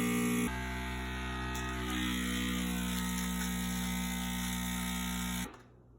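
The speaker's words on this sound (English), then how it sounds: "We're going to set it on dry setting on vacuum. And then we're going to let it vacuum." A vacuum sealer set to its dry mode pulls air from a bag holding a dry-age steak, a steady loud motor hum and buzz that runs for about five seconds, then cuts off abruptly.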